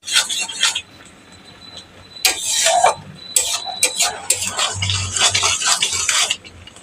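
Fish roe curry being stirred in a pan, spoon scrapes and metallic clinks against the pan in irregular bursts over a faint low simmer, fairly close, with no talk.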